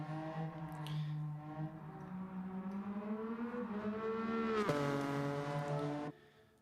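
Car engine in Gran Turismo 7 holding a loud close drone that climbs gradually in pitch, drops sharply with a gear shift, then rises again before stopping abruptly.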